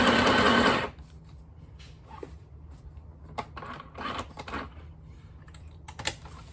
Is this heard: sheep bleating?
no